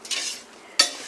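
Pasta being stirred into a carbonara sauce in a pan, a short scraping, sizzling swirl followed by a sharper burst of stirring near the end, close and fairly soft with no talking.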